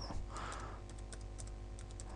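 Someone types a login name or email address on a computer keyboard, producing a quick run of light, close key clicks over steady low background hum.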